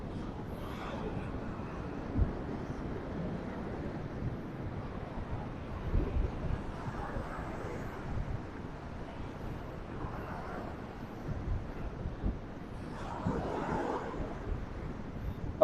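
Steady wind blowing at Lady's Mile Beach near Limassol, Cyprus, a constant rushing buffet across the microphone with occasional louder gusts, alone with no voices.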